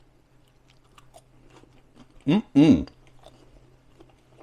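Two quick, loud crunchy bites into a microwave cheese toastie with Marmite, close to the mic, in otherwise quiet surroundings with a faint hum and a brief spoken word.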